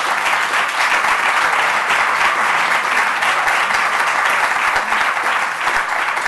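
An audience gives sustained applause for a speaker at the end of a talk, thick, even clapping that stays loud and steady from start to finish.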